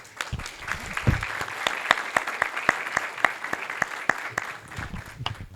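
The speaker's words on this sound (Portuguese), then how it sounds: "a quem eu peço uma salva de palmas." Audience at a legislative event clapping, with sharp individual hand claps in an uneven rhythm over a soft bed of broader applause.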